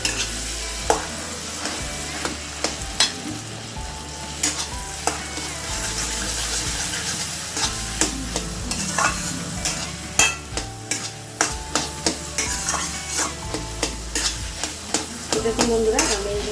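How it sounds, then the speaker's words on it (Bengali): Pieces of elephant foot yam fry in a generous amount of oil, with a steady sizzle and frequent scraping stirs of a utensil against the pan, close and continuous. A low hum runs underneath. "আমি এখন তেলের সাথে ভালো করে নাড়াচাড়া দিয়ে দিচ্ছি"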